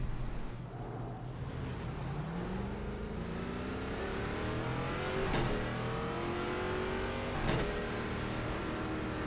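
Several race car engines in iRacing's ARCA Menards Series at Lanier roll off together, their rising, overlapping engine tones sweeping upward as the pack accelerates, with two sharp louder revs cutting through the steady drone.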